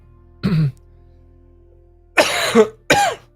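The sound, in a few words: coughing into microphone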